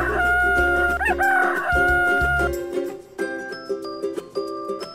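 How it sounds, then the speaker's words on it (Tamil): A rooster crows once loudly and nearby, followed by a few clucks, over a tinkling musical backing. "இல், சேவல்."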